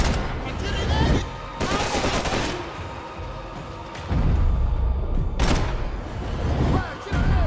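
Rapid gunfire from the video game Max Payne 3, loud bursts of automatic shots with short pauses between volleys, punctuated by heavy thuds.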